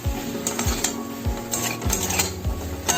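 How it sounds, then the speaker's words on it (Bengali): Chunks of katla fish are stirred gently in a pan with no oil, giving repeated soft scrapes and light clinks of a spatula against the metal in a slow, uneven rhythm. "মাছগুলো দিয়ে দেওয়ার পর এটা হালকা হাতে নেড়ে নেব"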